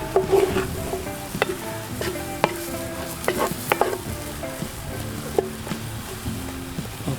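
Vegetables sizzle and fry in oil in a Dutch oven over an open fire, with repeated scraping and clanking stirs at an irregular pace, close and moderately loud.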